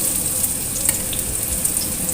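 Shallots frying in hot oil for a pumpkin and meatball dish, a steady bright sizzle that runs through the clip with a few soft stirring knocks underneath and no talk.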